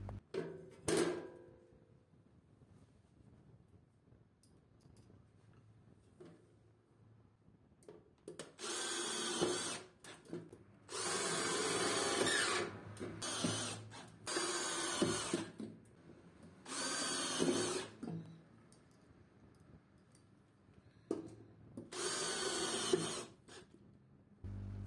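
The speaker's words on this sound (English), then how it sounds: "Then we place the rails and fasten them with screws." Power drill driving screws to fasten rails inside an electrical panel, several separate whirring bursts of a few seconds each with quiet gaps between them.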